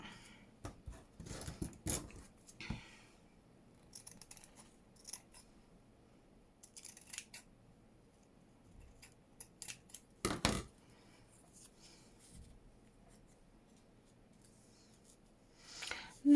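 Scissors snip paper for a skinny flip-down junk journal booklet, with a few sparse, quiet cuts and soft handling noises scattered across an otherwise hushed stretch.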